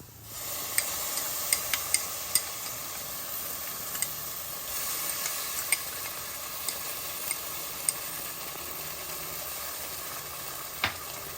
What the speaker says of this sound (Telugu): అల్లం వెల్లుల్లిపాయ పేస్ట్ ఉల్లిపాయ పేస్ట్ బాగా వేగేలాగా వేయించుకుందాం